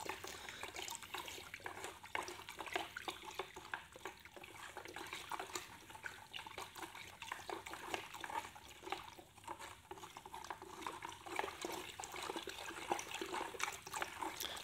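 Steady, faint fizzing and trickling as quicklime reacts in water, a soft continuous hiss with tiny crackles running throughout, no voices.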